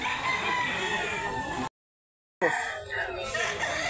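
A rooster at a chicken market crows loudly and close by, with a long drawn-out call. It breaks off into a short silence, then market noise and clucking follow.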